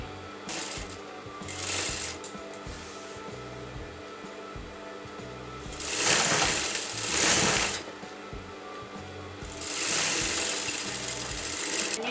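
A sewing machine double-stitches the crotch seam of a Patiala salwar in three bursts of fast, whirring stitching, each lasting a second or two, close up and separated by quieter pauses with small clicks.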